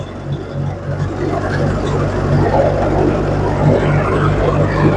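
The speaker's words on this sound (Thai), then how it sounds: "เร่งเครื่องแล้วครับผม" A rice threshing machine engine runs loud and steady in a rural Thai setting, a continuous low mechanical drone with rumbling hum and whirring, building slightly as it revs, with no clear talk over it.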